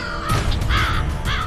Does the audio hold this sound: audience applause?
no